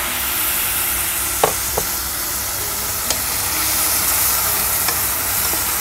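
Kalabasa squash cooks in a pan for ginataang kalabasa, giving a loud, steady sizzle and hiss throughout, with a few faint clicks of a utensil, close and uninterrupted by talk.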